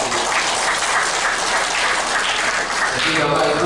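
A live-streamed inauguration ceremony for a college chair in Bengkulu, with an audience applauding steadily: a dense, even wash of clapping at constant loudness, with faint speech underneath.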